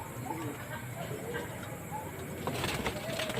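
A pet pigeon, a checker-patterned bird, coos softly in a low, throaty rhythm, close by and fairly faint, over a hissy background, with a burst of rustling noise toward the end.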